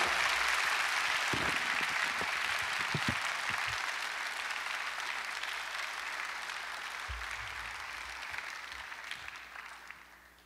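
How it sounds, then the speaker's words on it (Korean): Congregation at a Korean church revival service applauding warmly, steady sustained clapping from a large group that fills the room and slowly fades toward the end, with a few low thumps. "우리 뜨겁게 박수로 하나님께 영광 돌리시고"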